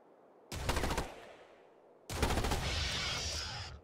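Automatic weapons fire in the strategy game Starship Troopers: Terran Command comes in two loud sustained bursts. The first is short and the second longer, with rapid rattling shots and no talking.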